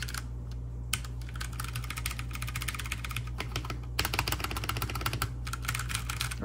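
Fast, continuous typing on a Ducky x MK Frozen Llama Mecha Mini v2 mechanical keyboard with brown switches, dense clicky keystrokes, a brief lull near the middle, then a busier burst of keys.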